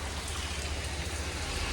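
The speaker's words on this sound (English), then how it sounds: "It's raining. Gonna have to pause for just a little bit." Steady rain falls outdoors at a home workshop during a small car build, a soft, even hiss with no breaks and no voices.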